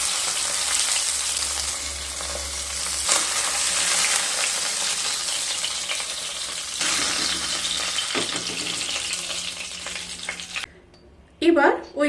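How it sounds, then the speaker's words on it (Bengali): Tilapia fish pieces frying in hot oil give a continuous close sizzle with some stirring and spattering, then the sound stops abruptly near the end. "দুটো সাইড মাছ খুব ভালো মতো ভাজা হয়ে গেছে,"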